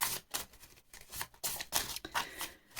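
Paper surprise packets for a Valentine's Day collection are shuffled and mixed by hand, giving bursts of crisp rustling and crinkling close up.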